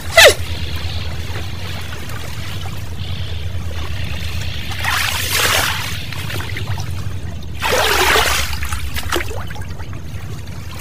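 Water sloshes and splashes around a rowed boat on a marsh, with two louder swells of churning water standing out over a low steady background.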